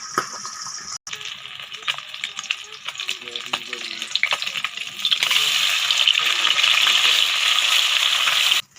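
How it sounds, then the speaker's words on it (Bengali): Fish pieces fry in hot oil for a spicy crispy fried fish, a busy crackling sizzle with stirring clatter that swells into a louder, denser hiss partway through, close and continuous, with no talking. "আমি এই মাছগুলোকে উল্টে পাল্টে ভালো করে লাল করে ভেজে নেব।"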